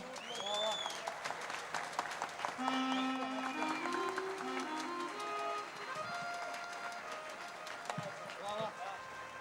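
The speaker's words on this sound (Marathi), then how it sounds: "सर्वांनी उठून त्यांच्यासाठी टाळ्या वाजवाव्यात, त्यांचा उत्साह वाढवावा" An audience at a live music concert applauds in a standing ovation for the musicians, with steady, moderately loud clapping mixed with crowd noise and a voice speaking over it.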